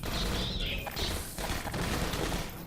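Dense, continuous game gunfire and crashing impacts from Half-Life 2: Episode One fill the whole stretch, a busy rattling fusillade with no pauses and no talk over it.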